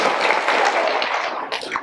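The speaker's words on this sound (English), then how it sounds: "Let's give them a power clap." A school awards-assembly audience gives a brief burst of rhythmic group clapping, a few sharp claps close together that end quickly, in a reverberant hall.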